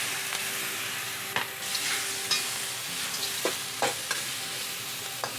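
Beef short ribs stir-fried with onion and green pepper in a hot pan for black pepper beef, a steady close sizzle with scattered scraping stir strokes and light clatter, no voices.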